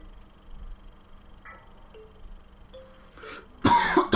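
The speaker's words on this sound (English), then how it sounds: "Don't know why I'm coughing." A person coughs near the end, a loud harsh burst after a quiet stretch with faint scattered clicks and tones.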